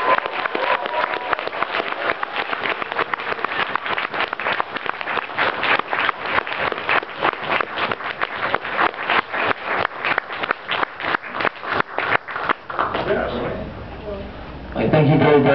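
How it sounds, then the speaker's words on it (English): Audience at a teach-in on agricultural enclosure claps in a crisp, rapid round of applause with sharp, distinct hand claps that thin out near the end before a murmur of voices takes over. "Another round of applause, please"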